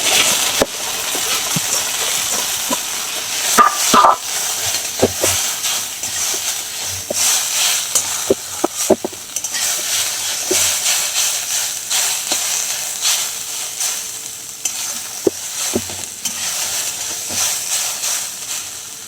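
Yippee instant noodles hit hot mustard oil in a wok, giving a loud, steady hiss of frying that runs throughout, dotted with scattered clicks and knocks from the pan.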